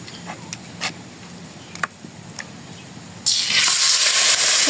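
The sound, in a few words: frying fritters in a pan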